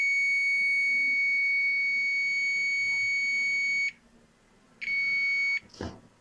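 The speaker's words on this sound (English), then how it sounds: "I put this probe in a supply slot, so it gives the buzzer." Multimeter continuity buzzer sounding as a probe touches a supply point on a desktop motherboard VRM circuit, a steady high-pitched tone lasting about four seconds, then a short second beep followed by a faint clunk.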